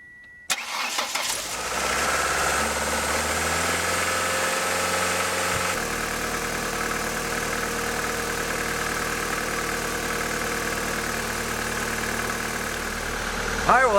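A 1999 Ford Escort with a newly replaced idle air control valve cranks briefly and catches, then settles into a steady, slightly rough idle that drones on close by, with speech in the background.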